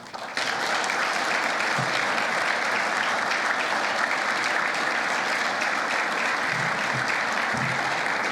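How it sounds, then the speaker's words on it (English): Audience applause for the five finalists at the MTConnect Challenge 2 winner announcement, a dense, steady burst of many hands clapping that starts abruptly and holds at full strength for about eight seconds. "if we can give them all a round of applause"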